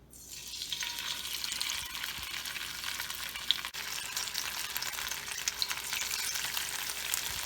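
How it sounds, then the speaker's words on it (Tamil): Pieces of rock fish frying in a pan of hot oil for a Tamil-style fish fry, giving a steady, crackling sizzle that stays loud and close from start to finish, with one brief knock partway through and no voices. "இப்போ எண்ணெய் சூடானதும் ஒவ்வொன்றா எடுத்து நம்ம ஃப்ரை பண்ணிட வேண்டியதான்."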